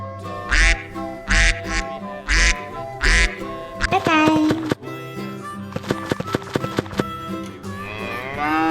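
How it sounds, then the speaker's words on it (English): A duck quacks four times in a steady, loud, close sequence, then cheerful music and other farm-animal sounds follow in a children's animal-sounds lesson. "Duck."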